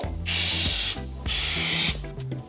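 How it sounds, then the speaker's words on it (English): Two long hissing bursts of aerosol bonding spray on drywall, close and loud, separated by a short pause, with clicks and faint mechanical rattles between them. "Use bonding spray."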